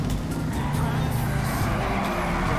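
Race cars roar through a GTA Online race, a loud continuous engine drone with tire noise, while a voice talks over the action.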